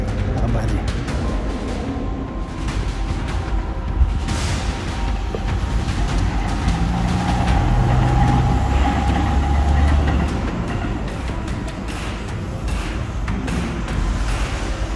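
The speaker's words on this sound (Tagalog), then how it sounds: "Mabilis yung tren" A commuter train running through Tokyo toward Akabane, a steady low rumble of the cars with rhythmic rail thumps and squeals, heard from inside under someone speaking.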